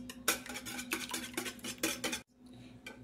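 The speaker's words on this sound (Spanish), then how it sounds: "yo acá de este lado tengo 5 huevos y ahorita los voy a batir" A utensil clinks and scrapes rapidly against a bowl while five eggs are beaten, a quick steady rhythm of close metallic taps that stops briefly near the end and then resumes more faintly.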